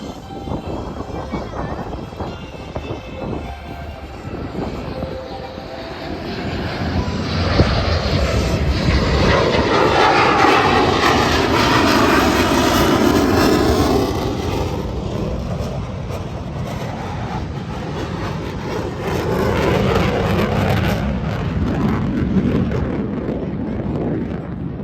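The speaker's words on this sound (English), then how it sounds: "on your right are the pair of F-15 SGs escorting our MRTG simulating a bomb threat aircraft to land" A pair of F-15SG fighter jets escort an MRTT aircraft coming in to land at a Singapore air force open house, a loud roaring jet rumble that swells and sweeps past over wind noise, with an announcer and crowd voices beneath.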